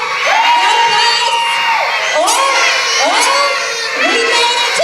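A large group of children at a Sunday morning church kids' event shout, scream and cheer continuously and loudly, with rising whoops repeating over a dense crowd roar.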